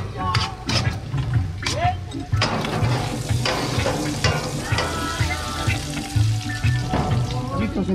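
Portobello mushrooms, onions and colored bell peppers sizzle steadily on a barbecue grill, with a continuous close crackle and occasional stirring clatter under a voice speaking Spanish.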